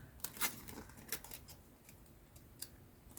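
Foam sticker being peeled off a recycled Christmas card for a junk journal, faint soft crackling and a few small tearing ticks, quiet and close, with no voices.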